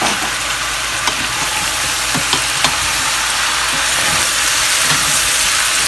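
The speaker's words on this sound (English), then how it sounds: "So I'll keep on frying, and then I will cover it to continue cooking." Chicken fries in a pan on high heat as a loud, dense, continuous sizzle with faint occasional clicks and pops underneath, steady throughout with no talking.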